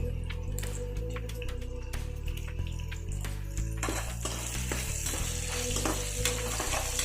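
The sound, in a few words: dried red chillies and turmeric sizzling in oil for poha upma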